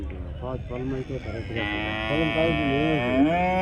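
A calf at a cattle market gives a loud, long drawn-out moo close by, rising and wavering, with people talking in the background.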